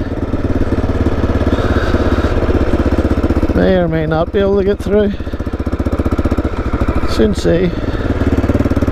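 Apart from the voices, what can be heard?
1996 Aprilia Pegaso 650 motorbike engine running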